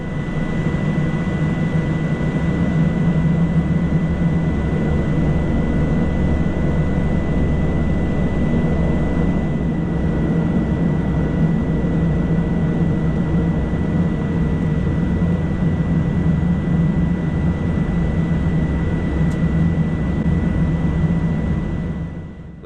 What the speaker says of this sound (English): Soon the engines fired up one last time today, an hour and 15 minutes behind schedule.